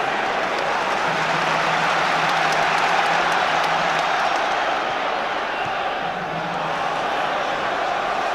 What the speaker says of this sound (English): Fabregas, after Kleb declined the crowd's encouragement to have a shot